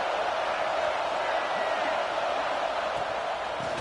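A large stadium crowd roars steadily, a dense, continuous wash of cheering and noise with no pauses, heard from within the stands.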